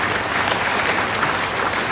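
An audience claps steadily and loudly at a Guru Shishya Sammelan gathering, dense applause filling the whole stretch with no voices on top.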